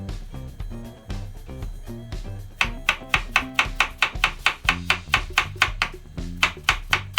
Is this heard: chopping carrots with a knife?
yes